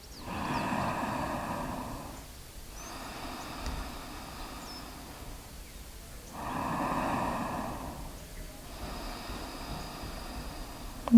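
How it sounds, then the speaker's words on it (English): Slow deep breaths during a yoga stretching session, with two long, airy inhale-exhale cycles at close range and soft pauses between them, no talking. "Take 2 more deep breaths here."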